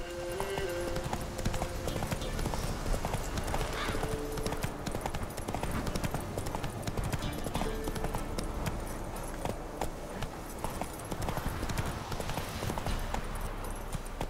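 Roach, the horse in The Witcher 3, gallops with a quick, steady clip-clop of hooves, joined by jingling tack and brief musical tones.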